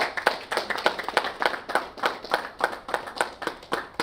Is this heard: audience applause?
yes